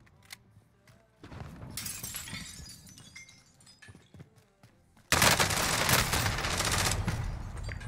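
Gunfire in the Call of Duty Warzone video game: dense automatic bursts and crackling impacts, a moderate stretch of shooting followed by a louder, continuous volley.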